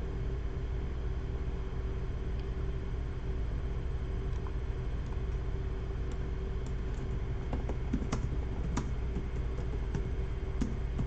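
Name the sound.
computer keyboard keys being pressed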